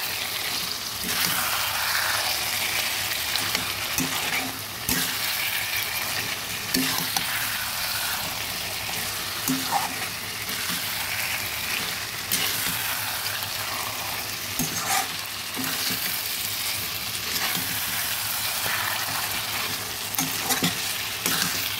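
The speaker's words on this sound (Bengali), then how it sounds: "ভালোভাবে মিশিয়ে দিচ্ছি।" Desi chicken curry being stirred in a frying pot, with a constant loud sizzle and bubbling broken by repeated scraping stirs of the spoon against the pot, no voices over it.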